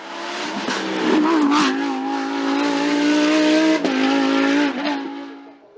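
A Lamborghini Huracan Super Trofeo race car at the Vuillafans–Echevannes 2022 hill climb, its engine holding a loud, steady high-revving note that shifts pitch briefly, with tire noise, close by and no talking.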